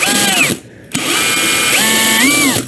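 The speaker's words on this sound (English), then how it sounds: "I'll go ahead and put the drill in here, drill down" A power drill fitted with a countersink bit whines loudly up to speed and bites down into the workpiece, running in two close bursts separated by a short pause, with the motor pitch rising and falling under load.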